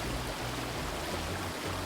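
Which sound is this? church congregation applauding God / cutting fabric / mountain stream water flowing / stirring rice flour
mountain stream water flowing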